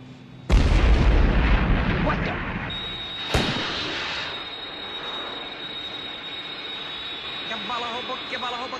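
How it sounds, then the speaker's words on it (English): Aircraft attack from the Thunderbirds puppet series: a sudden loud blast followed by a roaring rumble, a second sharp explosive crack, then a sustained high whine of jet engines fading under a steady engine drone. "I'm under attack from 3 unidentified aircraft and taking evasive action."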